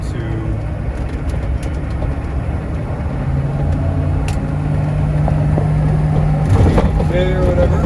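A 1998 AM General Hummer H1 Overland engine pulls hard, a steady low rumble that rises and grows louder toward the end, with a faint tonal hum and road noise beneath.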